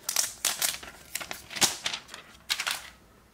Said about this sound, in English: let's unwrap this baby